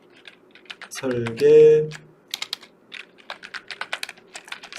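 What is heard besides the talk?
typing text on a computer keyboard in AutoCAD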